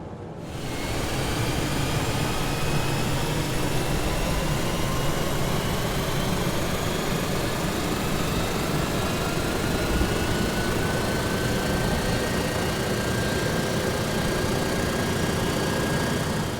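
Simulated turboprop engine on a crop-dusting airplane in Microsoft Flight Simulator 2024 spooling up into a steady, loud drone with rising whine tones that hold level throughout, no voices over it.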